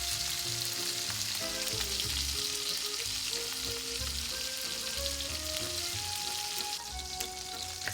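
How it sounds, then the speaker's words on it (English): Steaks sear in a pan with thyme and garlic, making a steady loud sizzle and crackle that runs throughout, with faint background music. "after about 5 minutes that the steaks have been searing"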